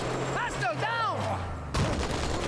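Covenant laser fire in Halo 2: Anniversary, a burst of warbling, sweeping energy shots followed by a sudden loud crackling impact, heard close under game noise while a vehicle is driven.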